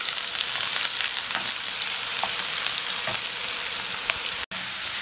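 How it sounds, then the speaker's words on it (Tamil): Onions hitting hot oil in a pan and frying with a steady, dense sizzle, with a few faint stirring clinks. The crackle stays continuous and close, dropping out for a brief moment near the end. "இப்போ நம்ம வந்து எடுத்து வச்சிருக்க வெங்காயத்தை ஆட் பண்ணிடுவோம்"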